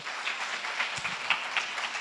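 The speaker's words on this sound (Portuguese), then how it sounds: "Dá uma salva de palmas para Jesus, fica de pé" A church congregation applauding during a service on spiritual battle: scattered, fairly faint clapping from a crowd with a few sharper individual claps, continuing briefly with no speech.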